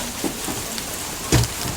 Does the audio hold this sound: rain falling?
yes